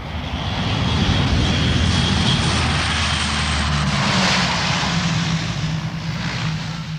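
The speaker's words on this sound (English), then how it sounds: "The next day, the first of the RAF Hercules lands between the bomb craters on a stretch of runway" An RAF Hercules transport plane lands on a bomb-cratered runway during the 1971 war, its propeller engines roaring loud and close in a continuous drone with a shifting pitch.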